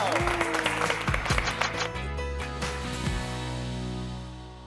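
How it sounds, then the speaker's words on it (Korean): On a television talk show, the studio audience claps for students, pastors and professors. Scattered claps ring out over bright sustained musical tones and a sweeping effect, then the clapping fades and the tones linger. "재학생부터 목사님 그리고 교수님까지 박수 한번 주시죠."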